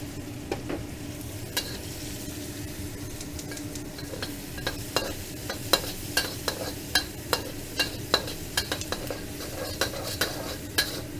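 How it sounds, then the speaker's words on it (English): Garlic stir-fries in a hot pan for spicy garlic lobster noodles, a constant close sizzle broken by a regular run of sharp utensil clicks and scrapes against the pan. "Okay, so then now we're gonna fry up our aromatics."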